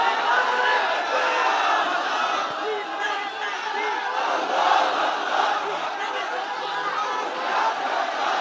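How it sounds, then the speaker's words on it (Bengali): A crowd at an Islamic lecture shouts a takbir chant together, a loud sustained mass of voices filling the hall throughout. "তাকবীর দেন তো একজন আওয়াজ করে"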